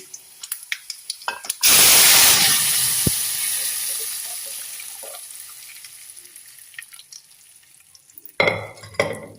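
Cooked dal and tomato tipped into a hot tempering for Andhra tomato pappu hit with a loud burst of sizzling and hissing that slowly fades over several seconds, with light clinks before it and a second splash of scraping and sizzle near the end.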